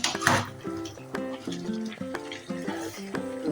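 Metal spoon scraping and clanking against a pot of simmering chicken curry, a series of bright rhythmic knocks and scrapes at close range with no talking.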